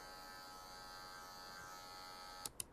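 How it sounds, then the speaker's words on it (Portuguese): Electric hair clippers buzz steadily and quietly for a light final touch-up on a fade haircut with a stripe, ending in two short sharp clicks. "Aí eu volto com a maquininha de corte, só para dar aquelas lapidadas de leve."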